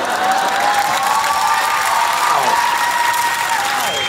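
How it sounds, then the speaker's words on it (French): A comedy club audience bursts into dense, loud applause with some cheering and whoops mixed into the steady clapping. "Moi, je vois les filles qui applaudissent là-dessus"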